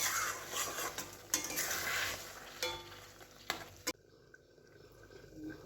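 A metal lid lifts off a pot of cooked prawns for a malai curry, with several clattering knocks over steady kitchen noise, then a sharp final clank before things go quiet.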